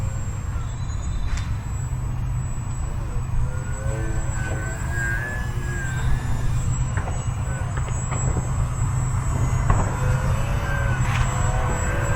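Small foamboard Yak 55 RC 3D aerobatic plane flying nearby, a steady buzzing electric motor drone whose pitch rises and falls in short swells as it maneuvers, over constant low outdoor rumble.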